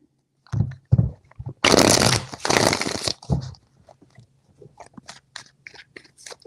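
A deck of tarot cards is shuffled close by: a dense, crackling burst of riffling cards, then softer scattered taps and flicks as the cards settle.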